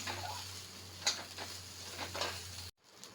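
Bitter gourd and crushed ginger sizzle steadily in a hot pan as they are stirred, with faint clinks of a utensil against the metal, ending in a brief cut.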